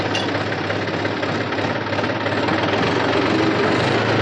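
A New Holland tractor in reverse with a faulty oil brake, a loud, close, continuous rough mechanical grinding and knocking over a running engine, no speech.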